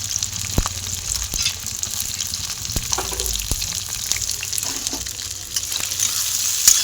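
Large-cut onions frying in a pan until reddish, a steady close sizzle with several sharp stirring knocks scattered through, no voices.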